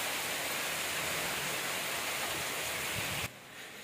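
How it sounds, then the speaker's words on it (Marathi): Heavy rain pours down during a thunderstorm outdoors, a loud, steady roaring hiss that fills the clip and drops away sharply just before the end. "एवढा जोरात पाऊस चालू आहे."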